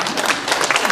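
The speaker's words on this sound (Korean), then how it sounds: "또 박수 쳐야 돼요?" A brief burst of group clapping rings out in a Korean church Saturday Bible study room, a quick patter of hands lasting under a second.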